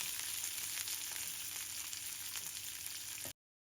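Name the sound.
onion and capsicum sautéing in oil with garlic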